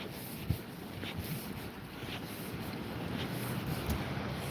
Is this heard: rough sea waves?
yes